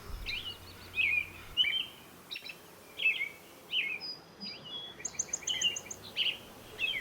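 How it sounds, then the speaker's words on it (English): Swainson's thrushes and song sparrows sing in a springtime dawn chorus, with repeated flutelike phrases and sharp chirps rising over a quiet, low background hum. "The springtime dawn chorus of Swainson's thrushes and song sparrows"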